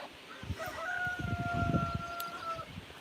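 Chickens on a farm, with a rooster-like crow carrying two steady tones for about two seconds over a jumble of low clucks and scratching, close and moderately loud.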